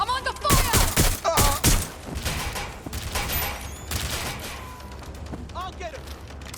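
Gunfire in Watch Dogs: Legion, a few sharp loud shots up front followed by scattered fire and rumbling, with voices shouting over the fight.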